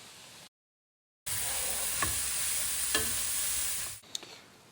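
Mushrooms and thawing garlic sizzle and fry steadily in a hot skillet, with a couple of soft stirring knocks partway through before the sizzle cuts off near the end.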